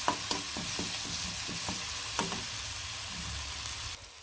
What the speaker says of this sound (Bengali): এর মধ্যে পেঁয়াজগুলো ভালো করে সুন্দর করে লাল লাল করে ভেজে পেঁয়াজের ভুনা